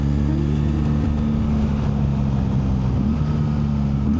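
A BMW R1300 GSA motorcycle engine drones steadily and loudly close by on a snowy Black Forest ride in Germany, its revs holding high with slight pitch wavers throughout, no voices.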